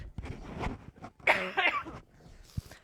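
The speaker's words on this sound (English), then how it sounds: "I'm going to cough and see if I can clear my throat." Close by, someone coughs a couple of times and clears their throat with a rough, gravelly rasp, followed by a short breath.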